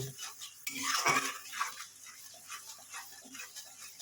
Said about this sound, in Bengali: এবার একটু ভালো মতো আমি কষে নেব।